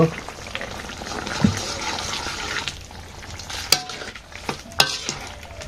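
Potato and eggplant curry cooking in a pan, a steady soft sizzle and frying hiss with occasional stirring scrapes and clinks, heard close under a faint background voice.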